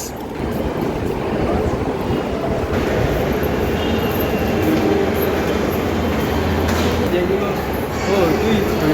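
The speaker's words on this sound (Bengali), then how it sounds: "আমরা এখন মেট্রোতে উঠবো দমদমের জন্য এই আমাদের নিউ গড়িয়া মেট্রো স্টেশন" Metro train at New Garia metro station in Kolkata, a loud, steady roaring rumble with rattling wheels that fills the whole stretch, with faint voices mixed in.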